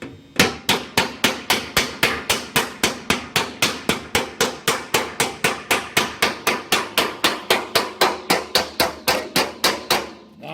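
A hammer strikes an aluminum aircraft cowling for the Flitzer in a fast, even rhythm of about thirty sharp metallic blows, close and loud with no talking.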